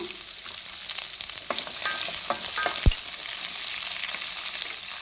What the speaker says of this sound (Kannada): ಫ್ರೈ ಮಾಡ್ಕೊಳ್ಳಿ